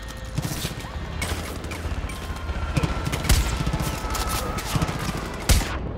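Bursts of gunfire in the shooter game Far Cry 5, a rapid volley of loud shots and booms over a continuous background of game sound, with sharp cracks clustering near the middle and end.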